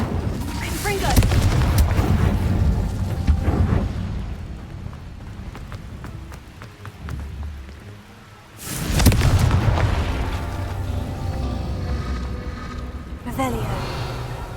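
Confringo blasts and other spell effects in the game Hogwarts Legacy, several loud booming explosions with crackling debris and rumbling tails, in two heavy bursts separated by a quieter stretch, with voices mixed in.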